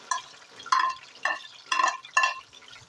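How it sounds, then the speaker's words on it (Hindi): Onions fry in a kadai for chicken curry, heard as five distinct scraping stirs at a steady pace over a faint background sizzle, with no speech. "तो जब तक प्याज जो है वो फ्राई हो रहा है"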